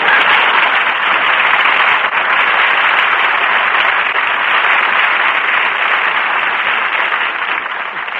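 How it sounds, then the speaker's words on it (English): A 1953 radio studio audience applauds Jack Benny's entrance, a sustained broad wash of clapping held at an even, loud level throughout before tapering slightly at the end. "Jack Benny, applause."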